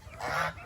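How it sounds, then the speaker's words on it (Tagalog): A goose in a backyard flock honks once near the mic, a short nasal call swelling then fading, followed by the start of another honk. "Yan, mga gansa."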